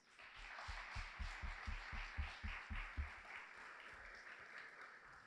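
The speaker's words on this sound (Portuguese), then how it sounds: "Uma salva de palmas." An audience applauding at a technology talk event, faint and distant, with a run of rhythmic, evenly spaced claps over a wash of scattered clapping that fades gradually.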